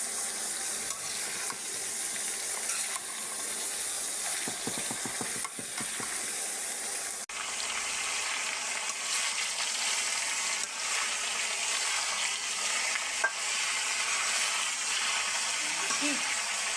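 Carrots and potatoes fry in a pan while being stirred: a steady, fairly loud sizzling hiss runs throughout, with scattered scraping and clinking of the utensil against the pan.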